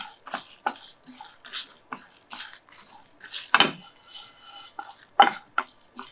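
Fenugreek and spices dry-roasting in a pan for Tamil rasam, stirred constantly with a utensil: close, irregular scraping and clinking strokes with a few sharper knocks against the metal.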